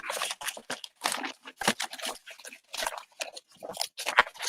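Rustling, crinkling and clattering of craft supplies being rummaged through in a box in bursts, close by, with short pauses between handfuls.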